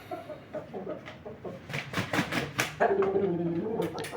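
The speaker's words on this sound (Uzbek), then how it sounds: "Yaxshi ko'rgan xo'rozim mana." A prized rooster weighing about five kilograms, kept as a fighting bird, gives clucking calls and a louder burst of cries, close by, with a steady tonal call near the end.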